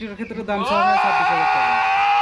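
A cross-breed farm goat lets out one loud, drawn-out bleat that rises and then holds. A short voiced sound comes just before it.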